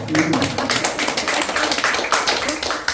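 Audience at a Korean lecture on how to live claps in a dense, steady patter for three seconds, many hands at once, fairly close and even throughout.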